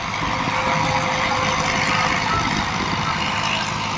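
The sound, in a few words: MF 240 tractor engine working in field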